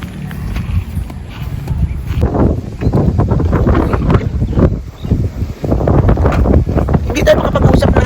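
Strong outdoor wind buffets the microphone in loud, uneven gusts with brief lulls, while people talk underneath the roar.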